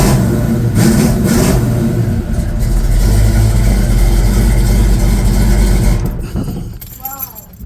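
A 2008 Honda Odyssey engine, just fitted with a new timing belt tensioner, cranks and catches, then revs up and runs loudly close by for several seconds before the revs fall away.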